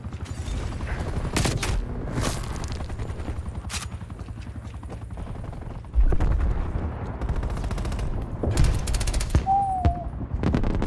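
Gunfire in the video game Call of Duty Cold War/Warzone comes as scattered shots and short bursts, fairly close and sharp, with players talking over them and a few louder cracks near the end.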